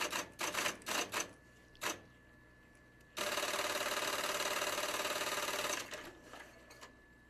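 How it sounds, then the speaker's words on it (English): A keypunch machine skips columns, duplicates a code and feeds punched cards: a few quick clattering bursts, then a sustained loud mechanical whirring rattle for about two and a half seconds, fading into lighter clicks. "the card will skip to column 42, automatically duplicate the residence hall code from the previous card, and then release the card and feed another"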